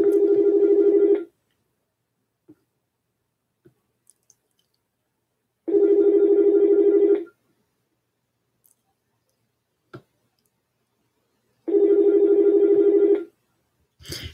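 A telephone rings in three separate long bursts spaced about five seconds apart, loud and steady, with near-silence and a few faint clicks between the rings.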